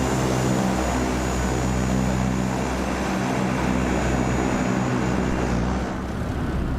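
Cessna 172 propeller engine droning steadily and loudly in Microsoft Flight Simulator 2020, a continuous close hum with no talk over it.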